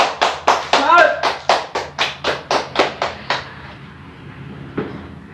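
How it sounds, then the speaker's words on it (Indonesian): Slow, rhythmic claps from a small group at a Bandung PCX motorcycle club gathering welcoming a guest member, about a dozen evenly spaced beats, with a voice speaking over the first claps before the clapping fades and a single late clap lands. "Tepuk tangan dong buat Lucky Ciro"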